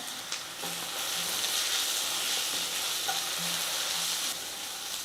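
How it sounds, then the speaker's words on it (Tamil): Turmeric is stirred into sautéed onion and ginger-garlic paste for a poori potato masala, with a steady close sizzle and occasional soft spoon scrapes and taps. "எல்லாம் நல்லா கலந்து கொடுத்துட்டு"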